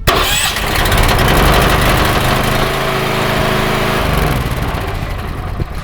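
A small Honda GX390 gasoline engine cranks and catches, then runs steadily at a loud, rough idle for several seconds, close by.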